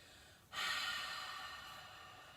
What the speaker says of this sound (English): Take a full breath out.